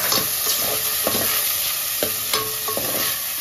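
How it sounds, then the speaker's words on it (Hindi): Sabudana (sago pearls) frying and being stirred in hot ghee in a cooking pot, a loud, steady close-up sizzle with repeated scraping stir strokes. "अभी साबुदाना डालते हैं।"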